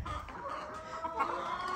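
Farm chickens clucking on a small egg-producing mini farm, a few soft, murmuring clucks close by over low background noise, with no talk.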